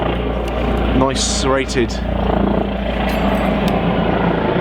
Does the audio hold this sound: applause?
no